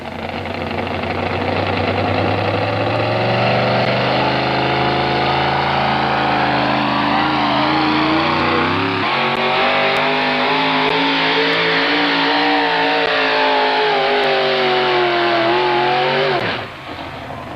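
Four wheel drive pulling truck at a 2001 NTPA truck pull in Galax, Virginia, engine roaring loud and continuous under load for about sixteen seconds, pitch climbing and wavering as it strains down the clay track, then cutting off abruptly.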